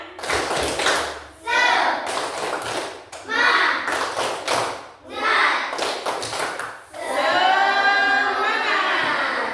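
A classroom of children claps a rhythmic spirit routine, bursts of patterned clapping alternating with chanted voices and a final longer sung phrase, close and lively.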